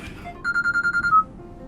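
A phone ringtone trills in a quick, steady burst of about eight pulses, fairly clear and close, signalling an incoming call for a phone interview with a government minister in a Korean drama. A faint voice-like murmur sits underneath.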